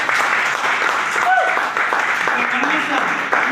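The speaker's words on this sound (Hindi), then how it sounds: "जोरदार तालियां" Loud applause from a business meeting audience welcoming a leader, a sustained roar of clapping with a voice speaking over it briefly in the middle.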